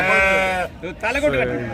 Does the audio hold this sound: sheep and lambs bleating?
yes